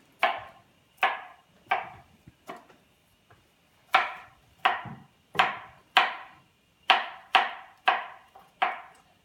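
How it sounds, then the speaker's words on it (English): A knife chops food on a kitchen cutting board with sharp, close, distinct strikes. About a dozen chops come in loose bursts with short pauses between them, and no one talks. "let me chop this up."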